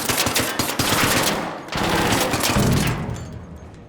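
Turret machine gun in the video game Arc Raiders firing two loud sustained bursts of rapid shots, separated by a very short break, trailing off at the end.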